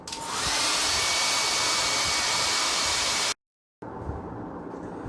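A hair dryer blows steadily and loudly on a watercolor painting for about three seconds, cuts out abruptly, then a fainter airy hiss resumes, with no one speaking.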